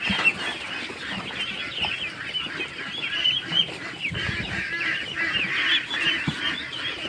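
Farm ducks quack and honk in a busy, overlapping chorus, many birds calling close by at a steady level throughout with no talking.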